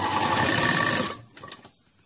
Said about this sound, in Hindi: इस कपड़े को इस पर रखते हुए पूरे चारों कलियों को हम सिलाई लगा लेंगे